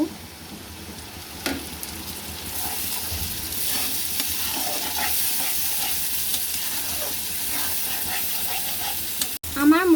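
Spice paste frying in a pan for a prawn bhuna curry, with a steady, close sizzle and the scrape of stirring throughout, ending in a few louder stirs.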